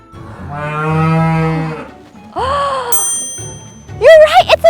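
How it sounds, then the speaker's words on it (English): A cow gives a long, loud, close moo, then a second shorter low call, followed by bright chiming bell-like tones in a cartoon farm setting. "You're right, it's a cow!"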